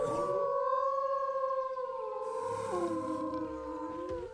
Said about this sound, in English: Now let's go ahead and right-click, which should be the howl